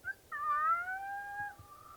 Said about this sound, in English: I think the sound of a coyote is just so exciting.